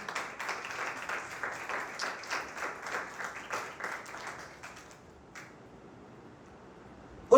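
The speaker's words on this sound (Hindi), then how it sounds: "यीशु मसीह के लिए जोरदार तालियां बजाएं।" A church congregation claps loudly in a dense rhythmic burst of hands for several seconds, then fades into quiet room tone near the end.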